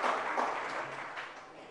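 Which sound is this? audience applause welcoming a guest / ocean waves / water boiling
audience applause welcoming a guest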